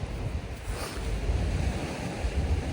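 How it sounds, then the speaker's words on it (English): Strong wind roars and buffets across an open hillside, loud and steady with gusting swells and heavy rumbling microphone noise, with no voices. "it's just super windy"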